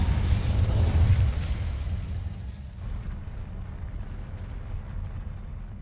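The Incendio fire spell from Hogwarts Legacy erupts as a loud, deep whooshing blast that swells in the first second, then fades into a lingering low crackling roar.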